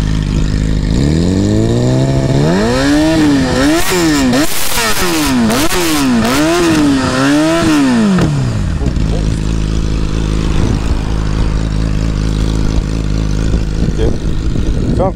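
A Yamaha R6 sport motorcycle engine idles, then revs hard several times in quick rising and falling bursts before dropping back to a loud rumbling idle, close by, with people talking around it.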